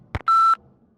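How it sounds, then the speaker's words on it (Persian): A single clean electronic beep from an answering machine in the video game Max Payne 2 follows a brief click, loud and close, then near silence. "لطفاً پیام خود را بعد از شنیدن بوق بگذارید."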